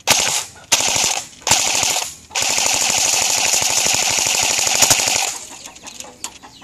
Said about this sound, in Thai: ขอเป็นออโต้นะเพราะเซมิผมเล็งไม่ได้ผมจับปืนอยู่นะ